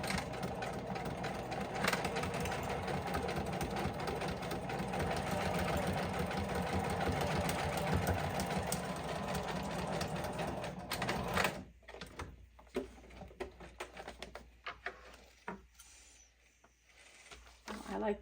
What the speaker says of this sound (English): I'm going to put these on top and just stitch with a zigzag like that, just to reinforce the spine.